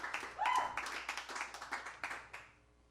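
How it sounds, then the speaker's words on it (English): A small audience claps at an evening performance, soft and somewhat distant: a scattered run of individual handclaps that thins out and fades toward the end. "Give Matthew a round of applause for having us here tonight."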